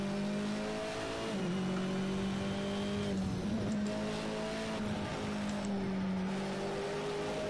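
A Porsche's engine in a racing video game, loud and close, droning at high revs with pitch sliding down and climbing again through gear changes and throttle lifts.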